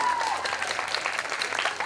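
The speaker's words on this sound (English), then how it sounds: "she deserves a round of applause" Audience applause fills the room with a dense, steady wash of many clapping hands, moderately loud and fairly close, with no distinct voices on top.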